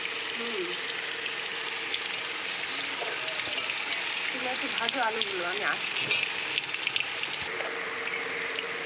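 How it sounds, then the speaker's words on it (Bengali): Potatoes fry in a pan with a continuous, moderately quiet sizzling crackle while a person talks intermittently nearby. "এখন আলুগুলো ভাজছি"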